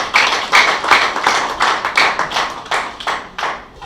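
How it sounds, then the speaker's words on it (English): A small audience at a Nigerian builders' institution training session gives a round of applause, a handful of close, distinct claps in an even rhythm, about two per second, for roughly four seconds. "please, can we give him another round of applause?"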